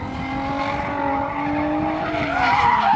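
A drift car's tires squeal and skid in a long, sustained screech whose pitch slowly shifts. Engine noise runs underneath, the car is fairly close and loud, and no one speaks.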